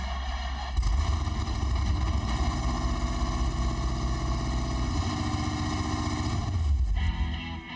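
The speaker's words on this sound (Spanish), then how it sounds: "nunca se sabe hasta que enciendes el motor" A Plymouth Barracuda with a very powerful engine fires up and runs with a loud, rough, rumbling idle close by, throbbing steadily with a few revs and ending as it settles.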